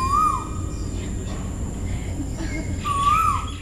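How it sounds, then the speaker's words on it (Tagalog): An Asian koel gives a rising, whistled call twice, near and clear, separated by a pause over faint background hiss, in Bohol. "Ang Western Koel or Asian Koel or yung local na tawag natin dito ay bahaw, kuhaw, or pungaw."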